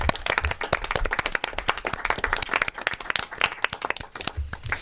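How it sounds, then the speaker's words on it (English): Audience applause for volunteers at a youth commission meeting, a dense, close burst of many hands clapping that holds steady for several seconds before thinning slightly. "We should give them a round of applause because they truly deserve it."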